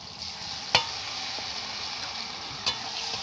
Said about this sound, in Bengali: সব কিছু একটু ভাজা ভাজা করে নেব।